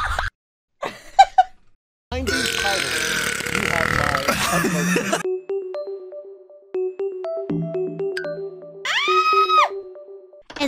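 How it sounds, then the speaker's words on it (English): Cartoonish burping from two elderly women characters in a video game trailer shown at the Game Awards, loud drawn-out belches alternating with bursts of laughter and jingly game music. "Nan and Ethel start burping on the official Game Awards coaster."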